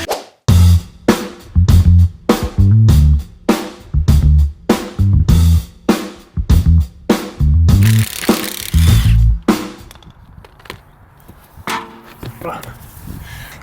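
Wheel removal on an Audi A6, with a power tool loosening the wheel bolts in loud repeated rattling bursts, close and rhythmic, followed by metallic clanks and handling noises as the wheel comes off.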